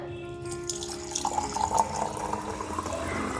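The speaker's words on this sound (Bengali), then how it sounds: "তো জল দিয়ে দেখতে হবে ঠিকঠাক জল পড়ছে কি না" Water pours from the spout of a freshly repaired vessel in a soft, steady trickling stream that rises slightly in the middle, close by and fairly quiet, with no talk over it.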